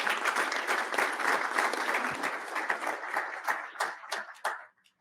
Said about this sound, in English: Please give General O'Connor a big round of applause.